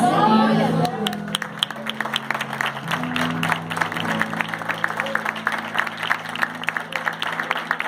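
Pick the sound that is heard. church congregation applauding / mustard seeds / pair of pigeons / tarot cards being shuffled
church congregation applauding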